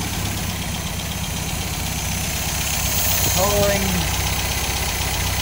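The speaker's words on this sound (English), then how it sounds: "Got it sitting there running about 950 RPMs roughly." Freshly rebuilt MGA engine idles close by at about 950 RPM with a steady low rumble and faint ticking, while someone speaks briefly over it.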